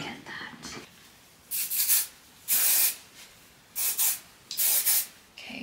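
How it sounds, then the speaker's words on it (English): Several short hissing bursts of aerosol texture spray onto hair, about four puffs spaced a second or so apart, close and fairly loud. "Let's do a little bit of, oh, my texture spray"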